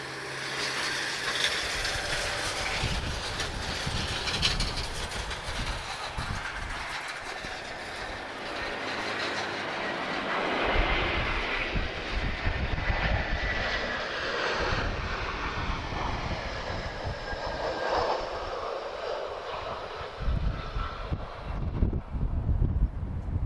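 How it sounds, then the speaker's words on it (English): A TAP Airbus A320-214 lands at Lisbon Airport on arrival from Funchal, Madeira, with a broad, steady jet engine roar and rushing wind noise that rise and shift over about twenty seconds, heard from a distance. "So this is TP1684 arriving from Funchal, Madeira. This is an A320-214."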